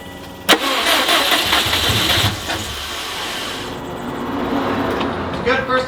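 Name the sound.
Subaru WRX STI engine starting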